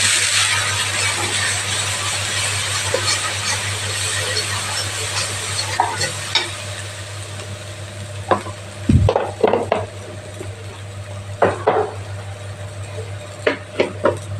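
Spices with Kashmiri red chili and green chili paste are stirred in a pan for an egg omelette curry: a soft background sizzle broken by scattered scraping clinks of the spatula, growing busier toward the end.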